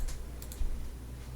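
A few quiet, sparse mouse clicks during installer setup on a PC for a GTA 5 mod, set against low background hum.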